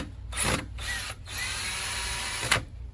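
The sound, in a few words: unscrewing porch light fixture screws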